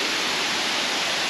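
A waterfall roars nearby as a loud, dense, unbroken rush of falling water, filling the whole short moment with no voices.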